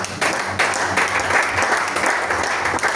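A church congregation bursting into applause, dense sustained clapping from many hands filling the room at close range for a few seconds, with no speech over it.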